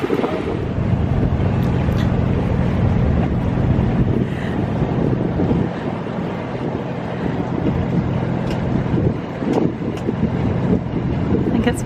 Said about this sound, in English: I think it's Michael Hill's boat.